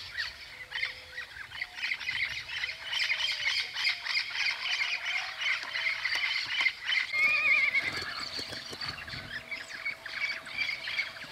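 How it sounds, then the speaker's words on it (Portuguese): Parrots squawk loudly and repeatedly beside the São Lourenço river, harsh calls overlapping in a steady chorus as birds fly past, with no talking. "agora vamos lá para os papagaios"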